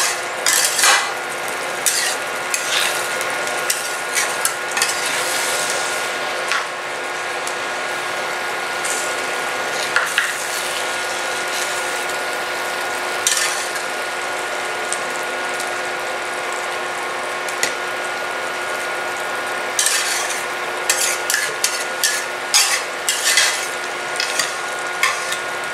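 Eggplant cooking in oil for doi begun, a yogurt eggplant dish, is stirred over low heat: a steady close sizzle with repeated scraping and rattling spatula strokes and no talk.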